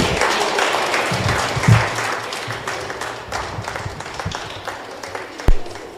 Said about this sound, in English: With an applause, another big round of applause.